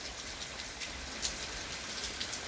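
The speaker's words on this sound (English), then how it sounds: "But the rain sounds really relaxing." Light rain falling outdoors during a thunderstorm, a steady soft hiss of drops on surfaces, even and continuous, fairly quiet and alone with no voices.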